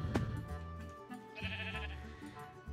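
Sheep bleating in a video game: a few short, wavering bleats over a steady game music and ambience bed, fairly quiet and with no talk during the clip.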